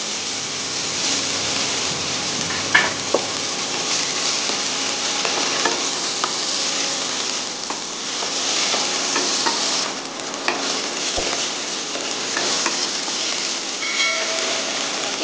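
Chopped tomato frying with onions in a pan for a Bengali fish sagarika dish, a steady close sizzle and crackle running throughout with occasional stirring clicks and no talk.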